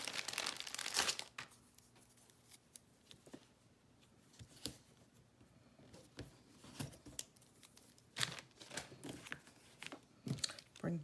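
Tear and Tape adhesive strip being handled and torn at a papercraft desk while making a Stampin' Up! fun fold card, with crinkling and ripping sounds that come up close under quiet talk.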